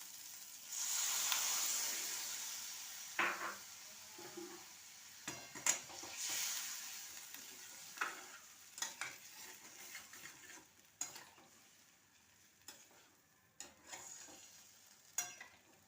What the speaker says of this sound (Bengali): এবার এটা আমি জল ঢেলে দিলাম।